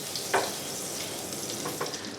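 Butter and olive oil, a tablespoon of each, melting in a hot pan for Korean street toast, giving a soft steady sizzle with a couple of faint clicks and nothing spoken.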